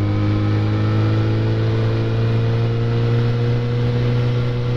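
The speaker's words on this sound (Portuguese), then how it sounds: "Ela de sexta marcha a 4 mil giros, ela tá 75 por hora." A Yamaha XJ6 motorcycle cruises in sixth gear at about 4000 rpm and 75 km/h, its engine giving a steady, even drone that stays loud and close throughout with no talking.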